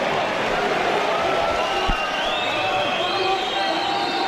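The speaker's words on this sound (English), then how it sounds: "The crowd cheers." Crowd at a fight between Mike Demetriou and Auth Phouthang cheering, a steady murmuring roar of spectators with scattered shouts and claps under continuous commentary.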